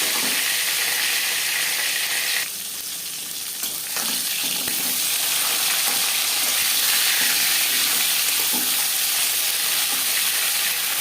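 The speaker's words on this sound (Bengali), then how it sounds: "পরিমাণ মতো সরষের তেল গরম করে নেওয়ার পর দিয়ে দেব মাছের মাথা ও মাছ" Fish pieces and fish heads sizzling loudly in hot mustard oil, a dense continuous crackle with a brief dip partway through, up close and without speech.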